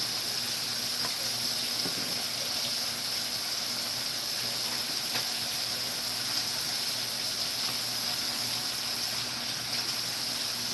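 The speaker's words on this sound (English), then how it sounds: "Yeah, put some water." Water poured steadily into a pot of corn on a home stove, a constant loud rushing hiss that runs unbroken the whole time.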